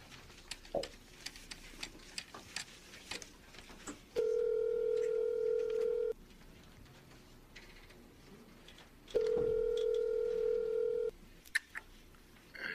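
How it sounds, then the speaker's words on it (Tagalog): A telephone handset gives two long steady electronic tones, each about two seconds, separated by quiet with faint ticks and small noises, close by and clear, like a phone ringing out for a call. "Teka nga, isusumbong ko siya sa asawa niya. Tatawagan ko si Marlon"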